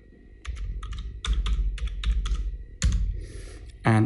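Typing on a computer keyboard, close and fairly loud, with irregular bursts of key clicks and heavier thumps separated by short pauses, and no voices.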